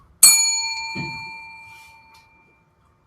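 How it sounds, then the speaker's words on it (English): A small hand bell at a TechMasters meeting gives one bright, clear ding that rings on and slowly decays over about two seconds, followed by a soft thud. "we've got this nice little bell"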